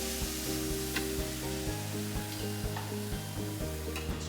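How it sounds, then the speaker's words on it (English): Steaks sizzle loudly and steadily on a preheated multi-grill, a crackling hiss with a low mechanical hum underneath. "You'll hear that sizzle. It's nice and preheated."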